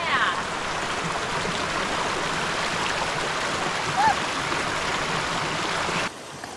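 A stream rushes steadily at a crossing on a Southern California waterfall hike, a dense, continuous close-up wash of flowing water that cuts off abruptly near the end.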